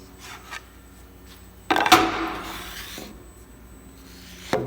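A workpiece is set onto a Gannomat Index 150 LS drilling machine, giving one sharp knock followed by a short rubbing, scraping slide and a faint clunk at the end, heard close up in a quiet shop.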